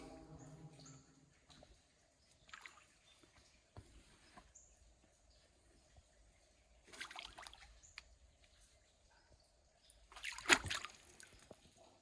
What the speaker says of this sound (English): you can even hear the water echo in there, splashing that